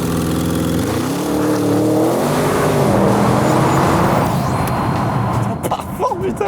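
A stage 1 tuned Audi RS6 4-litre V8 with all-wheel drive roars as it launches hard from a standstill, revving steadily up through the gears, loud and close, with a brief shift near the end.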